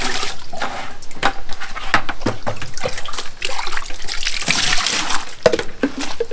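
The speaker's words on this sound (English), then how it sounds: "Get all the dirty water out of there." Dirty tile slurry water from a backsplash job is poured out of a bucket, a loud, continuous splashing and gushing with bursts of sloshing throughout.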